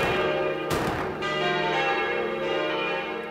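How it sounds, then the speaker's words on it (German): Church bells ring steadily with layered, sustained tones, loud and close, with one brighter clang standing out near the start. "Kirchenglocken läuten und unentwegt werden Geschütze abgefeuert."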